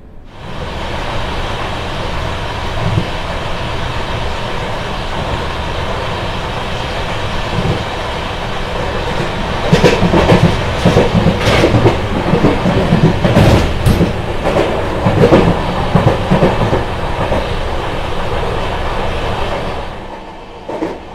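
A passenger train with a Vistadome coach rolls along the rails in a loud, continuous rumble heard from inside. Clattering wheel beats grow stronger midway, then ease off near the end.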